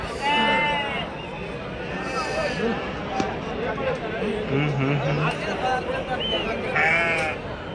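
Rams bleat repeatedly at a large sheep market in Angallu, Annamayya district, Andhra Pradesh. The close wavering cries come from several animals amid crowd noise and people talking.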